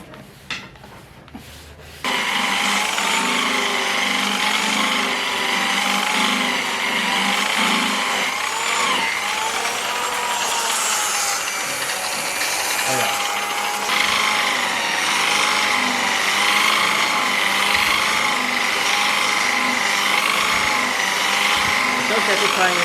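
A polisher works steadily across a carbon fiber surface being re-cleared, a loud, continuous whirring rub with a slightly wavering pitch that runs without a break after a short quieter start.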